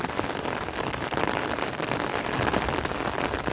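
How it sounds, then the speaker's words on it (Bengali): Steady rain patters across a rural field area, a dense continuous hiss of drops on surfaces at moderate distance, with no voices. "বৃষ্টি পড়তেছে দেখে ছাতিটা ফুরিয়ে নিলাম আর কি"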